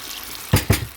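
Two short splashing gushes of water poured into a pot of stewing borscht vegetables in quick succession, close by, over a faint steady background hiss.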